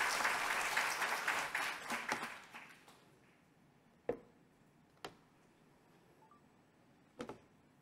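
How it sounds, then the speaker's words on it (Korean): Audience applause at a church service in Korea welcoming a missionary speaker, a dense burst of clapping for about three seconds that dies away, followed by a few isolated soft taps. "함께 박수로"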